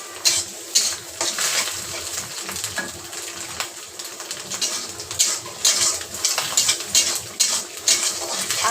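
An egg fries in a pan for egg noodles, giving a continuous sizzle and crackle broken by the clinks and scrapes of a utensil against the pan.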